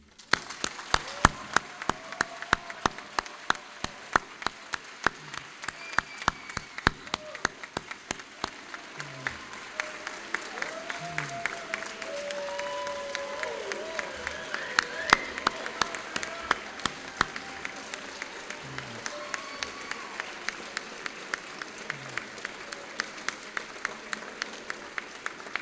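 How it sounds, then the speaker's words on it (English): Audience at a 2019 White Coat Ceremony giving sustained applause: a long run of steady, even clapping from many hands, moderately distant, with murmured voices and occasional calls mixed underneath throughout. "please give a round of applause for them"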